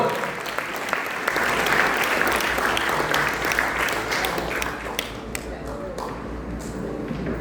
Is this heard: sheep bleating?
no